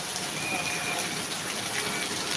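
Rain pours at night near a shop front's eaves, a loud unbroken rushing wash of water that stays even and close for the whole moment.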